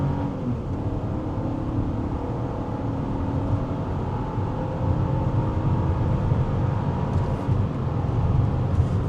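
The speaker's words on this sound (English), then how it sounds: "let's do a little acceleration here, uphill" A 2025 Buick Envista Sport Touring accelerates hard uphill on a highway entrance ramp, heard from inside the cabin as a loud, steady engine drone with road rumble that rises slightly in intensity toward the end.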